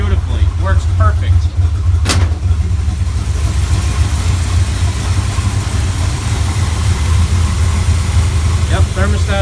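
A 1953 Chevrolet Bel Air gasser engine idling close by with a loud, even low rumble, one sharp click near the start and someone talking over it.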